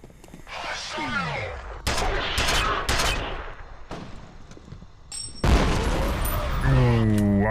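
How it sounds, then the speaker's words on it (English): Shooting and a grenade blast in the F.E.A.R. video game: scattered loud gunshots and booming impacts punctuate the stretch, with a heavy explosion-like hit late on followed by ringing tones. "I literally threw a grenade in his face, and he didn't give from it."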